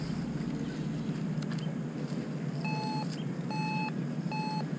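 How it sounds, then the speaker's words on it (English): A metal detector, a Whites V3i, pinpoints a target in an urban park, giving three short repeated electronic beeps near the end over a steady outdoor wind-like noise. "I guess that's picking up the metal detector"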